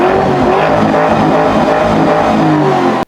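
A car engine revs hard during a sound test, a loud close roar that swells and holds for about three seconds before cutting off abruptly.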